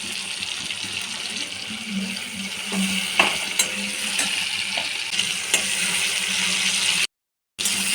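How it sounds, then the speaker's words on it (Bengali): Chopped tomato frying with salt in a pan, a steady hiss of sizzling with a few scraping stirs and light clicks, close by, briefly cut to silence near the end. "লবণ দিয়ে টমেটোটা ভেজে নেব।"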